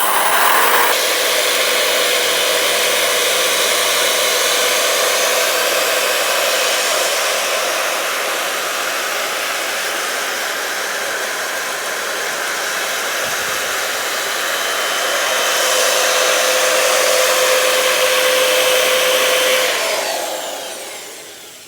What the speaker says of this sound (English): So I'm going to fire up the lathe on the slow speed and let the mop go across the face